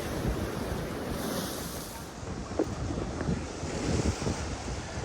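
Waves wash steadily onto a very stony beach along a rocky shoreline trail on the Bruce Peninsula near Tobermory, Ontario, with gusting wind buffeting the microphone throughout.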